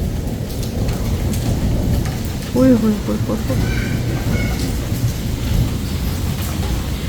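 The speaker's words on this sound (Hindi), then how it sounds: "अल्लाह की कुदरत देखें, इतनी अच्छी बारिश हो रही है।" Heavy rain pours steadily with a rumble of thunder in the middle, while a voice exclaims over it at close range.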